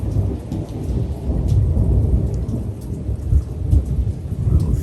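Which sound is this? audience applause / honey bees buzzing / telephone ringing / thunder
thunder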